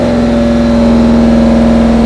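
A dual-fuel car engine running on LPG liquid injection, held steady at about 2,200 RPM on a dyno, gives a loud continuous mid-pitched drone with a strong steady hum and no speech over it.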